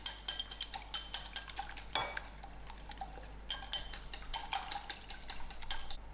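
Eggs whisked in a dish: quick, rhythmic bursts of metallic clinking and tapping, close and fairly quiet, with a brief pause midway before the strokes resume.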